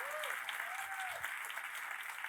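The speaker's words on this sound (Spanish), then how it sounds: "Denle fuerte ese aplauso al Rey de Reyes" Church congregation applauding during a Spanish-language worship service, a steady dense wash of clapping throughout with a faint sustained tone drifting above it.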